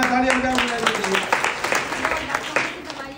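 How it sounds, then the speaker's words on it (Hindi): A small group of people claps together indoors, a dense run of sharp hand claps lasting a few seconds at close range, with voices talking over the clapping. "तालियां बजाओ।"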